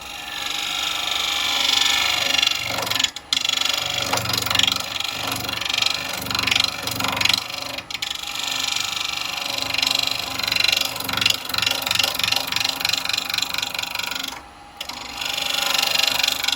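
A bowl gouge cuts an unrounded wood blank spinning on a lathe, giving a loud, continuous rough scraping whir with bouncing pulses and a few brief breaks, close up and without talk.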